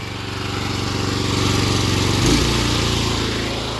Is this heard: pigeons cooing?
no